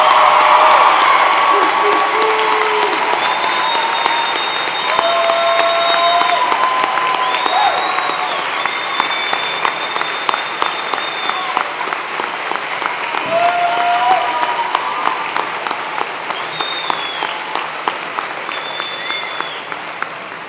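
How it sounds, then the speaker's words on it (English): High school graduation audience for the Class of 2023 applauding and cheering, a loud sustained wall of clapping with whoops and shouted calls rising above it, tapering slightly toward the end. "Let's give them a round of applause."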